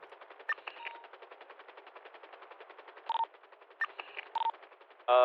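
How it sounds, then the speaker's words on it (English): Rapid automatic gunfire from an aircraft in the GTA NoPixel role-play game, fired in repeated sustained bursts with a few sharper louder pops in between, fairly quiet overall and with no talk over it. "Considering we've heard active gunfire from it,"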